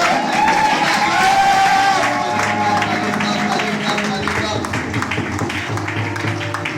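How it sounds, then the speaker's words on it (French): A church congregation in Gabon cheers and claps loudly for a woman of God, a dense crowd of applause and whoops mixed with voices and music. "On acclame très fort pour la servante de Dieu"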